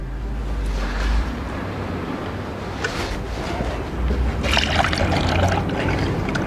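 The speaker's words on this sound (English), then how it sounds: "we'll get some antifreeze back in there." Antifreeze poured into a car's cooling system at an exhaust and radiator shop, a steady watery trickle and gurgle over broadband background hiss, with no talking.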